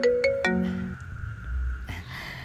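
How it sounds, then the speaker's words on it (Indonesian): A telephone ringtone plays in a home, giving a few quick rising electronic tones up close before fading into room noise. "Ada telepon."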